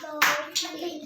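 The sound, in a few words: hand clap by teacher for counting activity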